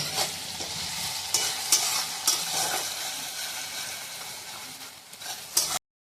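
Green chilli frying with onion and crushed garlic for a mutton and potato curry, a dense continuous sizzle with intermittent spoon scrapes and stirring knocks, near and steady, no voices present.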